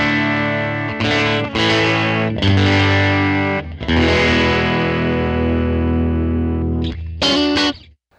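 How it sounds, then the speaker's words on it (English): Electric guitar played through a Line 6 HX Stomp on its Fender Bassman normal-channel amp model: loud, bright chords and bursts of notes ring out, broken by short gaps, with a quick flurry at the end. "this is supposed to be the Fender Bassman on the normal channel"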